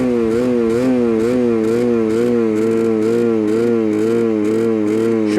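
A small two-stroke scooter engine at full throttle screams at a constant high pitch with a wavering, pulsing whine, held steady and close throughout.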